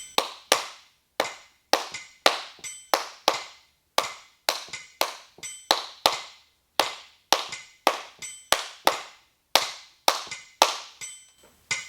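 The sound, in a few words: rhythmic hand clapping exercise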